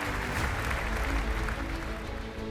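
Applause for firefighters at the reopening of a restored cathedral, a dense, steady wash of clapping from a large crowd, heard at moderate distance without pause.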